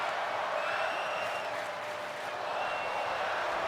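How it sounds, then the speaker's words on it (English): Crowd noise from a WWE 2K24 wrestling match, a steady roar of the arena audience with rhythmic chanting swelling through the whole stretch, loud and continuous with no clear talk on top. "Fight forever chants in the crowd."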